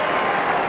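Big crowd at a cricket match at the Sydney Cricket Ground, Australia versus England in 1982-83, letting out a loud, sustained roar mixed with applause, filling the whole moment without a break.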